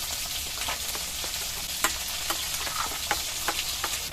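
Fish fry in hot mustard oil with a steady, fairly quiet sizzle, broken by small sharp pops and spatters scattered throughout, no voices.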